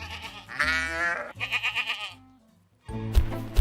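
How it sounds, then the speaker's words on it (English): Cartoon sheep on a farm bleat in a few distinct, wavering calls, loud and close, separated by a short silent gap, with no talk. "the sheep are leisurely grazing in the farm"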